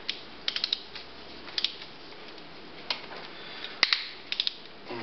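A 3/16 Allen wrench breaking loose bolts on a Harley-Davidson motorcycle, heard as sparse sharp clicks and small metallic taps spread over a steady low hiss, with one louder snap near the end.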